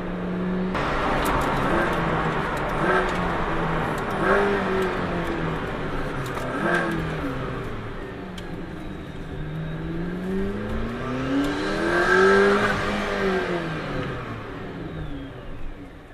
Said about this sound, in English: This car sounds great too.